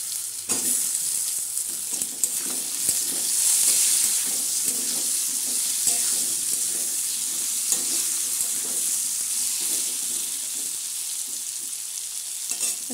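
Eggplant going into a pan of frying crushed ginger for a mixed vegetable dish, a loud close sizzle with the scrape and clatter of stirring, steady for the whole stretch.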